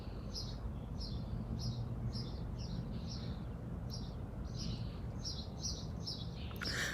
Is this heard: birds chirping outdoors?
yes